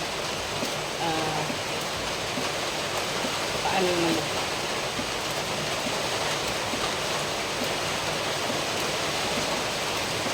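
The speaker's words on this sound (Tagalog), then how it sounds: "Medyo malakas na yung ulan. Naririnig siya." Heavy storm rain roars as a constant broadband hiss, loud and unbroken, with a brief voice speaking underneath.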